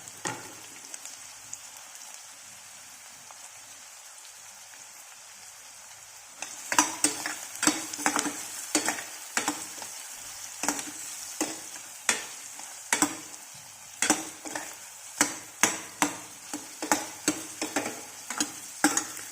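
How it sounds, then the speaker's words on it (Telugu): Curry leaves and green chillies are stirred in a pan of hot oil. A soft background hiss gives way to a burst of sizzling, then repeated sharp scraping strokes of the spoon across the pan, with no talking. "తర్వాత కరివేపాకు తర్వాత కొద్దిగా పచ్చిమిర్చి వేసుకుంటే వేసుకోవచ్చు లేదంటే లేదు ఇవి కలిపేద్దాం"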